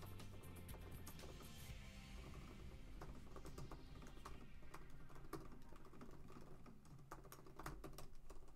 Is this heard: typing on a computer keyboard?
yes